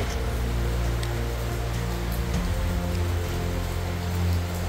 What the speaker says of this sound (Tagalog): So, ayan, malakas pa rin ang ulan